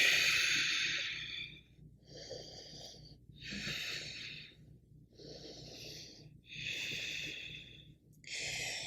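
Heavy rhythmic breathing during a yoga flow into a forward fold, with several loud, airy exhales and inhales repeating about every one to two seconds, close up with no talk.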